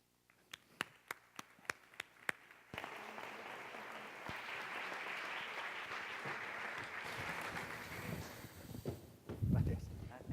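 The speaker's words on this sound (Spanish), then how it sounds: "un fuerte aplauso para los 4 invitados de la siguiente mesa." University alumni presentation audience applauding guests: a few isolated claps at first, then sustained full applause from a hall crowd lasting several seconds, fading out as a voice begins to speak near the end.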